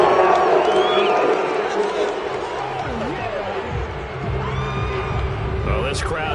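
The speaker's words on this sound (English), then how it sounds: "Well, this crowd does not like that call." A football stadium crowd angrily reacting to a penalty call, a loud continuous roar of shouts and bellows with a commentator's voice over it.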